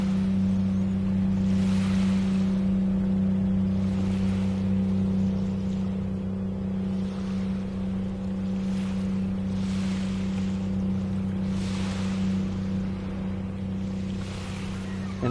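Boats drone on open water near the Fort Gratiot Lighthouse, a low steady engine hum running throughout beneath wind buffeting and soft rolling surf, distant but constant.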